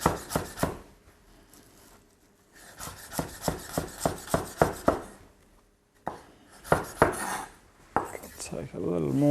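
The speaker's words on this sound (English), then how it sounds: "And chop away." A kitchen knife chops fresh herbs on a board for tabouli, with quick, close, rhythmic taps in several bursts separated by short pauses.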